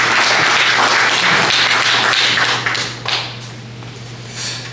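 Applause at a Democratic Party meeting with invited candidates, a roomful of hands clapping loudly at first over a steady hum, then thinning out and fading toward the end.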